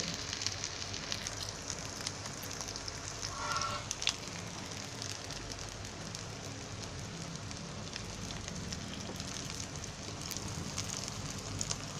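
Corn cutlets fry four at a time in oil over a low flame, a continuous hissing crackle that holds at a steady, moderate level throughout with no speech.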